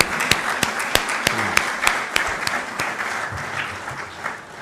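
An indoor audience applauds singers of the national anthem at a prime minister's office event, with a burst of sharp, distinct claps at first that thins into scattered clapping and fades.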